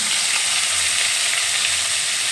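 Cauliflower florets fry in leftover oil after eggs, giving a steady, dense sizzle that holds evenly throughout, close and fairly loud, with no voices.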